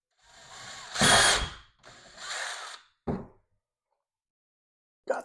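A power drill drilling into a wall to mount a dartboard whirs in two bursts, revving up and winding down, then a short buzz follows and a brief final whir after a pause.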